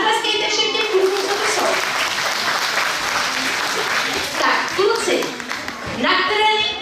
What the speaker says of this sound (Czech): zatleskejte všem